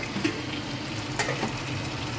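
Spices fry in oil in a pan for a Bengali prawn curry, a soft steady sizzle with a few faint scraping stirs, close and alone without talk.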